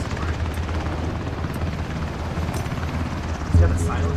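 A helicopter in the video game Ring of Elysium gives a steady, loud rotor drone throughout, with voices talking over it.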